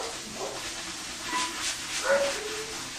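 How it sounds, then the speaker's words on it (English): A dog barks somewhere nearby with a few scattered woofs during tile wall grouting, set against a steady background hiss. "of course we'd have to have a barking dog around, wouldn't we?"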